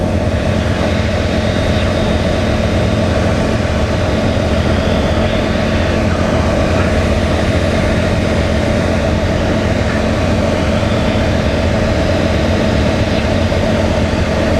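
Small aircraft engine at full power climbing out after takeoff at about 75 knots, a loud, continuous low drone and rumble from inside the cockpit, steady throughout with no voices.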